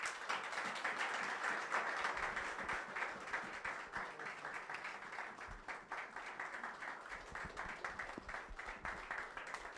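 Sustained audience applause welcoming an evangelist at a church gathering, many hands clapping steadily and loudly for the full stretch with scattered sharper claps near the end.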